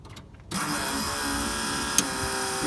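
A 6.2 liter diesel in a 1972 Nova begins running after a quiet start, a steady dense whine and hum holding at close range, with one short sharp click partway through.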